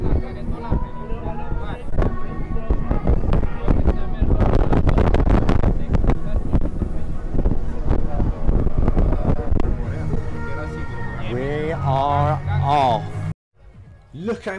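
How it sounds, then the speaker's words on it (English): Cruise ship Valiant Lady's thrusters run as it leaves Barcelona port, a loud steady low rumble mixed with wind buffeting the microphone, with people talking over it and a brief drop near the end. "The thrusters are on."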